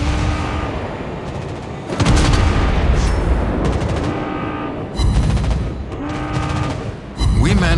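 Naval cruiser guns fire in World of Wars, loud booming salvos in several bursts with rapid crackling reports and rumbling tails, close and dominant throughout.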